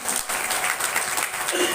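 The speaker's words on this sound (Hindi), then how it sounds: "जोरदार ताली बजाइए" Audience applause at a Shrimad Bhagwat Katha religious discourse, a steady dense wash of clapping lasting under two seconds with no voices over it.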